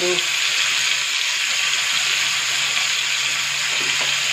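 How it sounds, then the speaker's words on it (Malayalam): Chicken pieces shallow frying in a pan for chicken biryani, a steady, loud broadband sizzle running throughout with no clear breaks, close to the pan. "ചിക്കൻ ഒന്ന് ഷാലോ ഫ്രൈ ചെയ്തിട്ട്"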